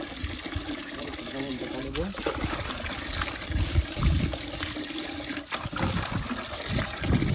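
Water poured and splashing during bathing, a steady close trickle and splash running throughout, with voices talking over it.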